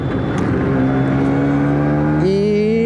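An LML Star Deluxe 125 scooter engine revs up through the gears, its droning note climbing steadily then jumping higher after a shift, loud and close with no talk over it.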